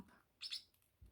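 A pet parrot gives a brief, bright chirp indoors, a short burst of high tweeting at moderate volume, with no talking.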